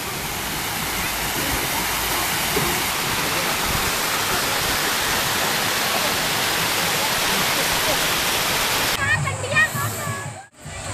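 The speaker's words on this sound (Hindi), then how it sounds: "कितना शानदार बना हुआ है झरना" Artificial waterfall at a water park, with boats running around it, roars as a loud, steady broadband rush of falling water. Toward the end the roar drops briefly and a lighter splashing takes over.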